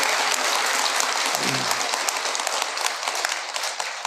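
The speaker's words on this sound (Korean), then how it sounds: "이럴 때 박수를 쳐야 되는데" An audience at a Buddhist dharma assembly bursts into applause, sustained, full clapping that stays strong and even, with a brief low voice murmuring underneath.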